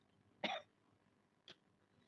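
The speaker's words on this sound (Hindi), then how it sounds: "खांसी हो रही है।" A single sharp cough in a quiet room, followed a second later by a second, fainter cough or throat-clear.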